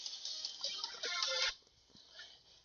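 A phone ringtone playing a Eurobeat song from Initial D, a thin, tinny synth melody from a small speaker that cuts off after about a second and a half, leaving faint traces.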